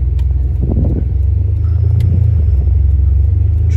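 A Ferrari 599's engine rumbles steadily and loudly from inside the cabin on a test drive, a deep, even drone with no voices over it.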